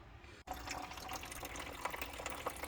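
Coolant from a Honda Civic ES 2004 radiator drains steadily after a brief pause, a continuous close-up watery gush and trickle with no talking.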